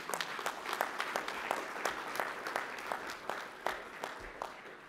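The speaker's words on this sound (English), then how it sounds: "Let's give all of our award recipients another round of applause." Audience applause for award recipients at a youth awards ceremony, a steady patter of many hands clapping in a room, moderately distant and even throughout, without speech.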